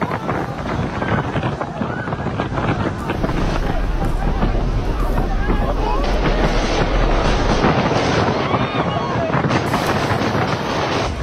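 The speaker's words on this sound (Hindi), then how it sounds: "तेज हवाओं के साथ उड़ गया सामान, तेज रफ्तार से आता दिखा बवंडर।" Hurricane Milton's strong winds roar and buffet a microphone in Florida, a loud continuous blustering noise with gusty surges and rattling debris throughout.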